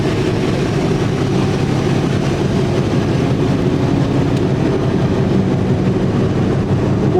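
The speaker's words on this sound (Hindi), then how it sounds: "ट्रेन हमारी निकल रही है 2 मिनट रुकने के बाद।" A passenger train pulls out of Golra junction on the Rawalpindi to Havelian line after a two-minute stop, heard from inside the coach as a loud, steady, low rumble of wheels and carriage with no talk.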